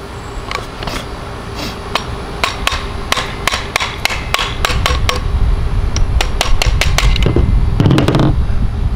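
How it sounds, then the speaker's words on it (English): A hammer tapping a tight-fitting stock onto the receiver of a 37mm launcher, a series of light, irregular metallic taps over a steady background hum, clustering faster toward the end. "let's use the hammer to slightly tap it into place"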